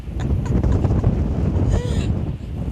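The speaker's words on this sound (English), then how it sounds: "It is extremely windy" Strong gusty wind on a Cornwall beach buffets the microphone in a heavy, rumbling roar, with a brief voice faintly audible beneath the noise.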